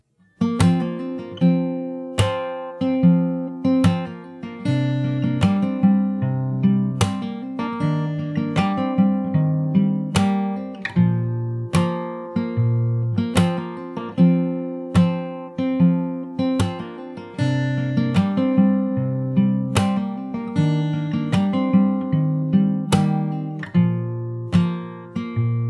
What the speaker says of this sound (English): After that we have the verse, which sounds like this.